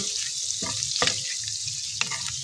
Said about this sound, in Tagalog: Ayan, ganyan kadaming butter, 100 grams na butter. Tunaw-tunawin natin.